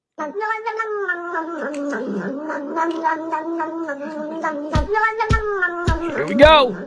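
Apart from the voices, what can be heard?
cat making noises while drinking milk in a video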